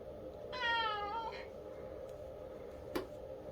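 A cat gives a single clear, rising-and-falling meow close by in a quiet room, followed by a faint tick or two, over a low steady hum.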